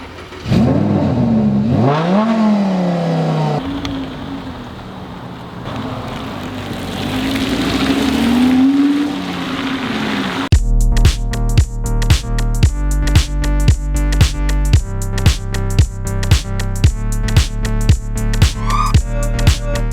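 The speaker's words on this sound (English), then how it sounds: "So, all right, Shawnee, I'm going to head out with Isaiah on this test drive, and we'll be back" A 2018 Lamborghini Huracan S Spider on a test drive, first heard as wavering engine tones at moderate loudness, then as a loud, evenly pulsing engine note that repeats steadily through the second half.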